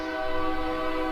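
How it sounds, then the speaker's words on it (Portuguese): A steady train horn blows continuously at moderate loudness, a sustained tonal blast with no break and no voices. "Perdão pelo trem apitando"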